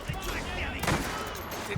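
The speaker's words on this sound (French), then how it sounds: "Continue de tirer!" Burst of gunfire in the crime video game Mafia, a dense rattling volley peaking sharply near the middle with scattered shots around it, under a man's speech.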